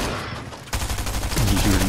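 Rapid submachine gun fire in a video game, a dense continuous burst starting abruptly and running loud to the end, with a voice briefly underneath.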